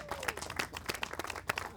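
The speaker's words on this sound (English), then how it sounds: "Let's give everyone a round of applause who showed up today." An audience claps for the people who turned out to a local speaker-series gathering, a short burst of dense, uneven applause at moderate distance with a few sharper claps standing out.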